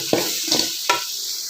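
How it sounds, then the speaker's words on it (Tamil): Onions with rock salt are stirred in a pan for a sardine curry, three quick spatula scrapes over a loud, close sizzle. "இது ஒரு அஞ்சு நிமிஷம் வதங்க விடலாம் வெங்காயம் பாருங்கள் நல்லா வதங்கி வந்துருச்சு"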